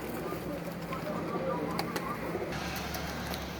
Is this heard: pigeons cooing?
yes